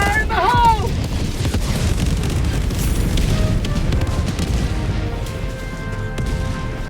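Eagle Cluster Strike bombing in Helldivers 2 unleashes a sustained, dense barrage of booming explosions for several seconds, loud and rumbling throughout, with a brief voice call at the start.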